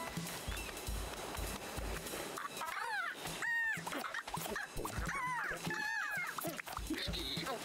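Small dogs in the Pizza Possum video game yap and whimper in short, high-pitched bursts over steady game music and ambience, fairly close and fairly loud, with no one talking.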